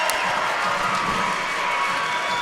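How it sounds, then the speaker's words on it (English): Wildcat fans in a high school basketball gym keep up a steady roar of applause and cheering for the full stretch, a dense wash of clapping and crowd noise with no clear gaps. "As the Wildcat fans give him a big round of applause."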